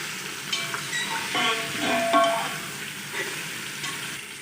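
Chicken frying with ginger garlic paste in a hot pan, a steady close sizzle with occasional stirring scrapes and clinks over it, no voices.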